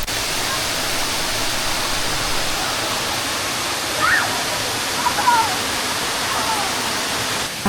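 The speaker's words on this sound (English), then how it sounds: "listening to the roar of Machine Falls" Steady, full roar of Machine Falls, a waterfall pouring over and around stones in Short Springs Natural Area, a constant close rushing wash of water with no break and no voices.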